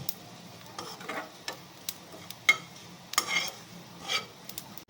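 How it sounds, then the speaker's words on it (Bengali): Cumin seeds dry-roast in a pan, with light scattered ticks and scrapes of stirring against the metal, soft and close, and no one speaking. "এই যে সাদা জিরে নিলাম। আর এইটাকে একটুখানি শুকনো খোলা একটু নেড়ে নিতে হবে"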